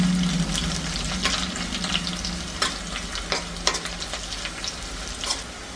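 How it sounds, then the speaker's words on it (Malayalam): Chopped onions sizzle steadily in hot oil for a Kerala sambar, a continuous crackling fry with scattered louder pops and a few stirring scrapes, close and without speech. "നമ്മുടെ ഉള്ളിയൊക്കെ ഒന്ന് മൂത്ത് വരട്ടെ"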